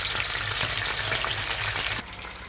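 Pieces of fish sizzle and crackle steadily in a hot frying pan, a dense close hiss that drops slightly in level near the end.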